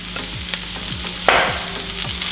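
Cooked rice stir-fried with onions and garlic for breakfast fried rice: a steady sizzle with repeated scraping strokes of a spatula against the pan and a louder burst of frying partway through, close and with no talking.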